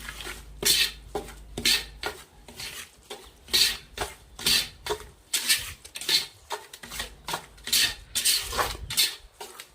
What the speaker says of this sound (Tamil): இதை நல்லா கலந்துக்கணுங்க இந்த மசாலாலாம் நல்லா கலந்துக்கணும்